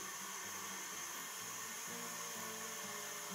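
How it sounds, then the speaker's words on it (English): An electric mixer running at high speed whips eggs and sugar for pianono batter, a steady loud whirring drone with a low, slightly wobbling motor hum and no pauses. "So turn your mixer into a high speed or number 6 or number 8."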